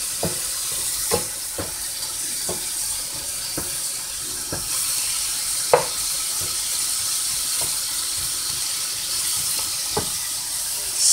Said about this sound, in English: I'm searing, braising or searing, or browning, whatever you want to call it, the beef stew meat